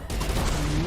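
Flak cannon firing in the space shooter game EVERSPACE 2, a loud continuous barrage of bursting blasts with a rising whine running through it.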